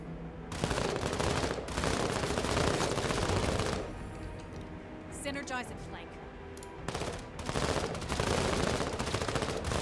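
Sustained machine gun fire in the video game Menace, loud dense bursts rolling almost continuously, briefly easing in the middle before resuming, with a voice talking over it.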